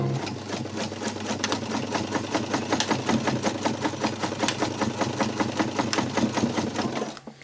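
Sewing machine running steadily at close range as it stitches a tent fly, its rapid rhythmic needle clatter continuing for several seconds before stopping abruptly.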